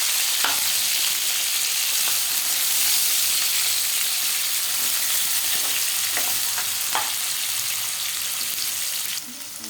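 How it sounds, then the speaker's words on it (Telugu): Tomato pieces frying in a pan for sago upma, giving a loud, dense, continuous sizzle with a few spoon taps and stirring clicks, dropping off slightly just before the end. "సన్నగా వేగిన తర్వాత టమాటా ముక్కలు కూడా వేసేసుకోవాలి."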